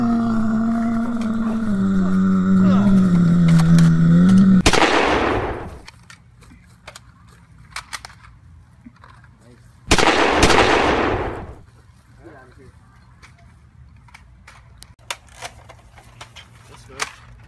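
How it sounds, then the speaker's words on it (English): Two loud shotgun blasts ring out in The Last of Us, each a sharp crack with a long decaying roar, spaced several seconds apart, preceded by a low game tone and followed by faint clicks. "Shotgun."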